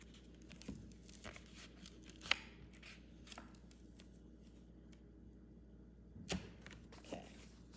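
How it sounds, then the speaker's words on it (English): Cardstock being trimmed for a Valentine's Day card, with quiet, scattered snips and slides of a paper trimmer or scissors heard close up in a hushed room. "So I'm going to trim it down."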